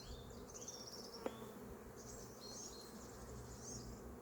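Honeybees buzz faintly and continuously during a spring hive colony inspection, with a single sharp click partway through and no talking.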